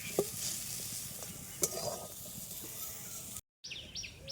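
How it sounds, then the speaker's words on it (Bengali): Khoya kheer is stirred through a hot kadai with scraping strokes over a low sizzle, close and fairly quiet, with a brief gap near the end and faint bird chirps in the background. "খোয়া ক্ষীরটা দিয়ে দেবো। আমি 100 গ্রাম মতন খোয়া ক্ষীর নিয়েছি। নাড়িয়ে চাড়িয়ে নেবো ভালোভাবে।"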